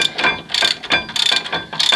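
Ratchet wrench tightening the lug bolts on the rear hub of a 1983 Mercedes 240D, a series of close, loud bursts of rapid clicking separated by brief pauses, with no talk.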